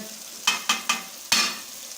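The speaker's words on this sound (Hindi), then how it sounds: "पहले हम गोश्त को फ्राई कर लेते हैं।" Pieces of mutton sizzling in a hot pan, with four sharp scrape-and-stir bursts breaking through a low steady fry, close and fairly quiet.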